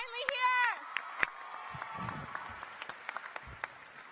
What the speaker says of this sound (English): Class of 2019, give yourselves a round of applause.